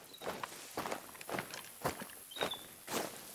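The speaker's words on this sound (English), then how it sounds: "I think I just heard footsteps." Footsteps crunch across the savanna in theHunter: Call of the Wild, five or six evenly spaced steps heard nearby and on their own.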